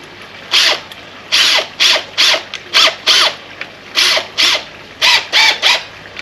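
A power drill with a new bit bores into a heavy granite tile in about a dozen short, loud, high-pitched bursts. Brief pauses separate the bursts in a stop-start rhythm, and no one speaks.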